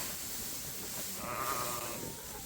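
Sheep bleating inside a barn freshly bedded with new straw, a brief wavering call in the middle of the clip, moderately near, over a steady background rustle.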